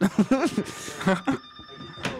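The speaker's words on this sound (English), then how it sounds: "Oh, we got our first phone call to Jock Rave." A telephone rings with an incoming call at a radio station studio, a steady electronic ring tone sounding alone after a man's nearby speech.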